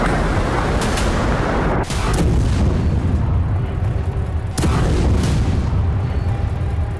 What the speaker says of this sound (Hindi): यूक्रेन ने स्टॉर्म शैडो मिसाइलों से रूसी शहरों में इसी तरह से एक के बाद एक 10 धमाके